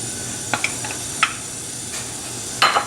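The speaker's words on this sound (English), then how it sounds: "Just mix that in." Garlic being stirred into honey in a pot, a low steady hiss under a few light spoon scrapes and clinks against the pot, spaced irregularly.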